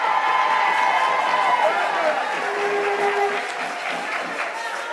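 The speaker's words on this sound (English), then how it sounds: "Give us a round of applause there for Dominica" Crowd at a public meeting in St Maarten applauding for Dominica, loud sustained clapping with cheers and whoops, and voices heard within the crowd, easing slightly toward the end.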